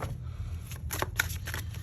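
Tarot cards being riffled in a pre-shuffle, a few quick papery bursts of flapping cards close up over a low background hum, with no talking.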